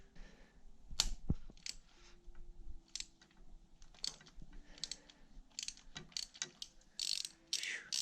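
A wrench clicks and ratchets while loosening tight nuts on the top end of a Suzuki LTZ250 quad engine, giving close, repeated metallic clicks and scrapes in uneven bursts with no talking.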